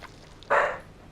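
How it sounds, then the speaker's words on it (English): A single short dog bark, heard indoors from a hallway and reacting to neighbours, one sharp yelp-like woof of moderate loudness in an otherwise quiet room. "she just hears our neighbors doing stuff and just wants to bark at them."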